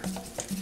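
A brief scrape of a spoon stirring seasoning and recao in a pan while making shrimp-stuffed tostones, two quick strokes close by.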